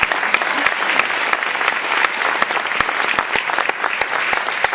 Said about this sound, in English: So we have a little round of applause.